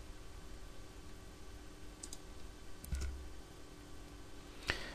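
A computer mouse clicks a few times, faint and sparse, while individual image slices are selected in imaging software. There is no talk over the quiet background hiss.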